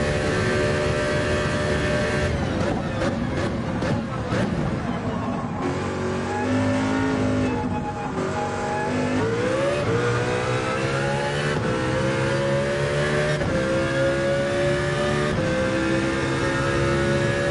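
In Gran Turismo, a race car engine revs hard and climbs through the gears, its pitch rising with each pull and dropping sharply at every shift. The loud, continuous whine plays with no talking.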